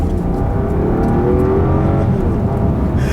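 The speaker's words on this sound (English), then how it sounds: "You do hear the engine a little bit, some of the growl from it whenever you really get up and go" A 2017 Rolls-Royce Ghost Black Badge accelerates, a low, smooth engine growl and road hum held steady and fairly loud from inside the cabin, with no talking.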